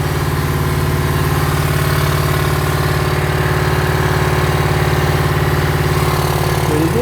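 Honda CRF50 dirt bike engine idling after a gas tank replacement, a loud, close, steady putter with an even rapid pulse throughout and no voices.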